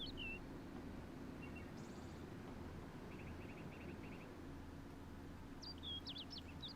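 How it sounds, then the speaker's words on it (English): Birds chirp and trill in short, faint bursts over a low steady hum in a quiet city in the video game Kingdoms of Amalur: Reckoning, with no music or voices. "just the sound of birdsong"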